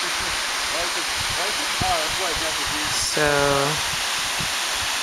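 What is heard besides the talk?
waterfall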